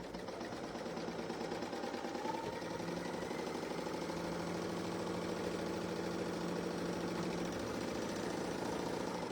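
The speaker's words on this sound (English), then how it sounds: "I'm going to stitch that seam. The quilting on a serger is actually pretty easy" A serger stitches along a quilt block seam, giving a steady, continuous mechanical whir with a fast rhythmic chatter that runs unbroken and fairly loud from start to finish, with no talking.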